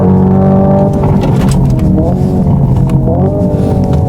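A loud, close simulated engine sound from a Hyundai Ioniq 5 N electric sports car accelerating, surging and holding high, with rapid stuttering cutoffs like a rev limiter, continuous throughout.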